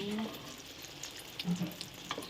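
Egg omelette with cha-om leaves crackles and sizzles in hot oil, a steady close frying hiss with small spattering pops and no talking.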